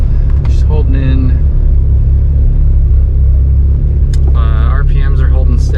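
A 1984 Volkswagen Golf GTI MK1 engine running at a steady low rumble while driving, with someone talking over it throughout.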